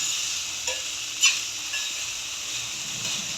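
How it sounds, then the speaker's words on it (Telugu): Food fries in an AMC cooker with a soft, steady sizzle and hiss, broken by a couple of light stirring clinks; close but fairly quiet, with no talk. "ఇలా వేస్తూ లైట్గా కలుపుకుంటూ ఉండాలి మధ్య మధ్యలో"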